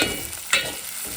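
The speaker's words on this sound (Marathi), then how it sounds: "तेल जास्त तापलेलं आहे त्यामुळे पटकन लसूण परतून" Garlic tossed into very hot oil for a crab curry, giving a steady sizzle with a brief sharper hiss midway as it is stirred, close and moderately loud with no talking.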